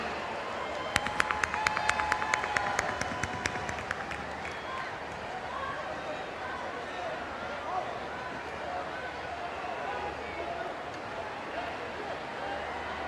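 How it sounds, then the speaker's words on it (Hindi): Audience applause welcoming a guest at a public event in Navi Mumbai, rhythmic claps near the start fading into a broad, sustained crowd roar as a speaker talks over it. "हम फिर से एक बार तालियों की गूंज के साथ उनका स्वागत"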